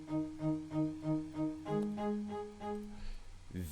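A cello section from the Session Strings Pro preset plays smooth, dry, repeated low bowed notes in a gentle pulsing phrase, then shifts to a longer held line before fading, with no voices over it.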